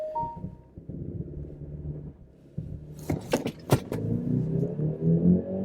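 A car with a 300-horsepower 2.5-liter turbocharged engine idles low, gives a few sharp clicks and clunks, then surges away under launch control, its engine note climbing steadily and loud close to the microphone.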